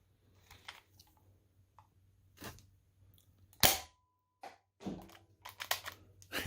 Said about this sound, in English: Rocket pistol.